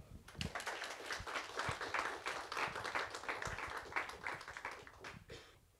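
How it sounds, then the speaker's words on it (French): Audience at a French geopolitics thesis competition claps for a contestant, a dense patter of many individual hand claps with crisp distinct strikes, rising and easing over several seconds. "Des applaudissements."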